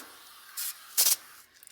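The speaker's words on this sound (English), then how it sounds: "I'm just spraying the lamb itself with a little bit of non-aerosol cooking spray" Two short hissing bursts of non-aerosol olive oil cooking spray onto raw lamb, the second longer and louder, sound close by against a quiet background.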